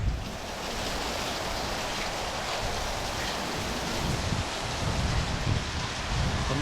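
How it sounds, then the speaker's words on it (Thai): Heavy rain driven by strong wind, a dense continuous hiss and patter with gusty low rumbles surging and easing, loud and close, with no voices over it. "รู้สึกว่ามันลมๆน้ำฝนมันแรงมาก"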